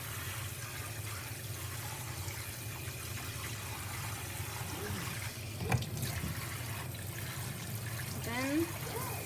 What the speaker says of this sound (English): I usually put some water back in.